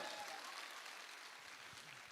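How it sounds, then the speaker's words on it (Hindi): Audience applause at a wellness business talk: a sustained, even wash of clapping from a crowd, fairly faint and without pause, with no talking over it. "मैं चाहता हूं एक बार जोरदार ताली उस इंसान के लिए"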